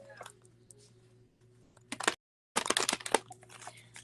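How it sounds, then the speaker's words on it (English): A deck of tarot-style reading cards is shuffled by hand close up: brief riffling bursts, a short pause, then a longer crisp flurry of card flicks over a quiet room. "One more shuffle."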